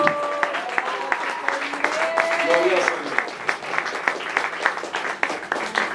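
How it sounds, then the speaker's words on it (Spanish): Church congregation applause fills the room with dense, continuous clapping, some hands sharper than others, as tonal voices sing or call out briefly over the first few seconds. "Dale un fuerte aplauso Rey."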